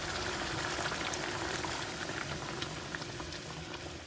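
Hot water poured into rice frying in a pan sets off a dense, steady sizzling boil, loud and continuous with crackling bubbles throughout and no voices.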